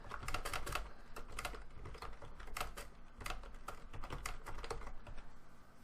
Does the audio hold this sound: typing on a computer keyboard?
yes